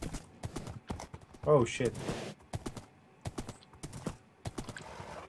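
Horses galloping in the Minecraft video game, a quick run of clip-clop hoofbeats mixed with chatter from several players talking over them.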